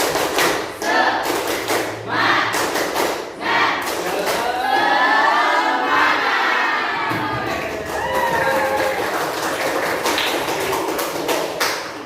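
A classroom of students claps out a rhythmic spirit-clap pattern in sharp, repeated bursts, with the group loudly chanting and shouting along throughout.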